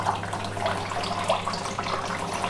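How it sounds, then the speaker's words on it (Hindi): Water trickles steadily into the tank of a Crompton Ozone 75-litre desert air cooler as it refills automatically, a soft continuous splashing flow with a low steady motor hum underneath, no voices. "ऐसे पानी खत्म होता है, अपने आप पानी भर जाता है।"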